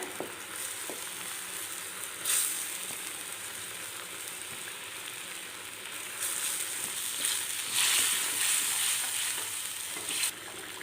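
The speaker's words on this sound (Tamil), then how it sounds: "மசாலா நல்லா கொதித்து வந்துடுதுங்க இப்போ மீனை சேர்த்துக்கிறேன்" Thick tamarind fish masala bubbles and sizzles steadily in a pan, with occasional louder spits and stirring clatters.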